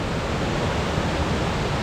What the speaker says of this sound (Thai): ลมลื่นได้ยินเสียงน้ำตก